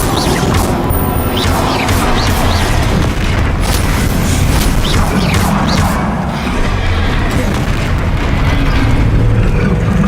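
Bombarda explosion spells go off during combat in Hogwarts Legacy, a dense, loud run of heavy booms and crashing blasts that pile up continuously with almost no quiet gap.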